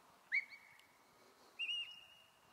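A shepherd's whistle command telling a sheepdog to walk up in Scotland, two separate sharp whistle notes, the second longer and slightly wavering, clear and close over quiet surroundings.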